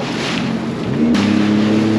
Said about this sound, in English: Engine's really starting to kick in now, ready for it to pull away